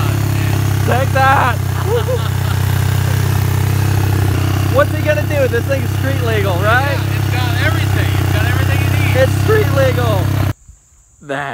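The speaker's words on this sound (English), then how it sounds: "We're driving a street legal motorcycle" A Suzuki SV650-engined street-legal 4WD mini rock bouncer idles steadily in a low, constant rumble while several people talk and laugh loudly over it; the sound cuts off abruptly near the end.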